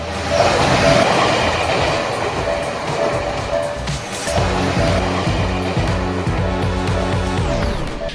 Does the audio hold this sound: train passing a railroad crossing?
yes